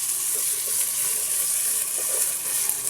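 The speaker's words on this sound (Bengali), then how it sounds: "দিয়ে সুন্দর করে আমি এখানে মশলাটা ভালোভাবে ভেজে নিচ্ছি" Masala with chopped onion sizzles steadily in a pan for spicy khichuri, a continuous soft hiss with a few faint stirring scrapes.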